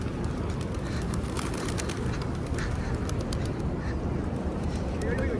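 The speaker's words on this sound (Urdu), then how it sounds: "ابھی میں جاؤں گا نا ذرا دیکھنا کیسے کبوتر اڑ جائیں گے" Pigeons gather around an old balcony in Makkah amid a steady, noisy outdoor wash of city sound, with faint scattered calls and flutters running throughout under distant voices.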